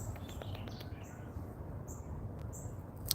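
A pair of pet parrots giving faint, high, short chirps and squeaks at scattered moments over a low background hum, quiet and close by.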